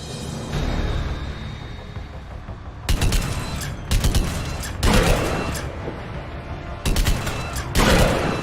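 Gunfire in the sci-fi shooter Mass Effect 3: loud, close bursts of shots break out repeatedly after a quieter ambient stretch, arriving in several separate volleys over a low rumbling background.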